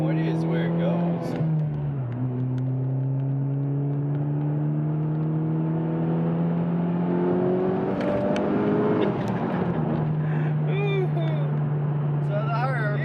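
A turbocharged Honda Civic Type R with a J's Racing 70 RS catback exhaust drones steadily at high RPM, its tone climbing and holding loud and close throughout.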